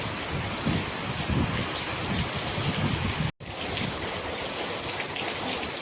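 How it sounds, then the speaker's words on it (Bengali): Heavy rain pours down in Delhi during a windy storm, a dense continuous roar of drops close by that is broken only by a split-second dropout partway through. "কেমন জোরে নেমেছে বৃষ্টি দেখো"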